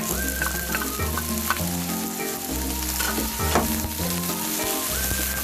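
Chopped tomato fries over high heat for a spicy prawn curry, giving a loud, steady sizzle and crackle from start to end. Occasional stirring scrapes sound close up, with no voices.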